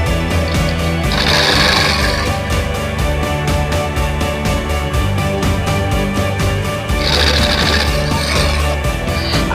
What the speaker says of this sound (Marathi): आता जे 5 इंचाचे पट्टे आपण कट करून घेतले होते ते आता आपण स्टिच करून घेऊया